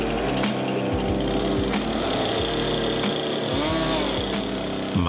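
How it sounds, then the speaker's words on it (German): A chainsaw saws a wedge cut into a standing tree trunk in a forest, its engine snarling loud and close with continuous high buzzing and slight shifts in pitch as the chain bites. "Damit der in die richtige Richtung stürzt und keine anderen Bäume umreißt, wird zunächst ein Keil in den Stamm gesägt."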